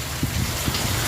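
Heavy rain with strong gusting wind, a dense, continuous wash of drumming drops with a low rumbling undertone, loud and unbroken through the short stretch.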